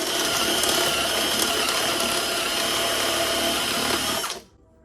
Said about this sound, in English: now we're going to do the hole bigger with the step drill